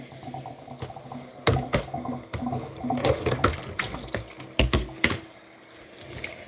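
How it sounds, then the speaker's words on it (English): Running tap water rinsing green peppers and onions in a kitchen, with irregular splashes and clunks of handling as the vegetables are turned under the stream, fairly close and without talking. "I like to rinse off my green peppers and onions so everything can be nice and clean."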